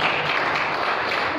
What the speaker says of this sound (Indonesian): Oke, tepuk tangan dulu dong ya